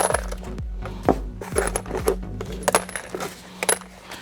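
Metal transmission oil pan bolts drop one after another into a cut-off cup, giving a string of close, bright clinks and rattles at irregular intervals with no voices.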